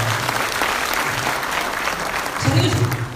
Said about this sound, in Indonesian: Tepuk tangan buat ibu-ibu.